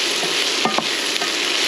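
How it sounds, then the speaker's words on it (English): One large chopped Vidalia onion sautés over high heat with seasoned salt, giving a steady, close frying hiss broken by a couple of quick stirring scrapes. "This is 1 large onion, Vidalia onion. And you just want to saute it until it's tender."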